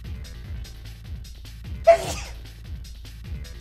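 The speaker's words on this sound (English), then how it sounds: "Gonna sneeze in a second, I can feel that coming." A single sharp human sneeze bursts out close and loud over steady low background music, preceded and followed only by the music.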